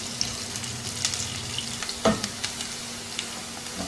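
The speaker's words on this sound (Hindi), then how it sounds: "हल्का सुनहरा फ्राई होने तक इसको पकाएंगे।" Steady soft sizzling of sliced onions frying in oil in a pan, with faint crackles and a few light clinks of stirring.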